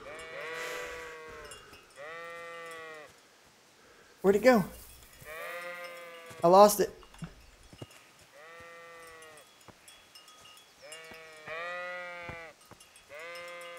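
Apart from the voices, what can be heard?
sheep bleating in the video game Kingdom Come: Deliverance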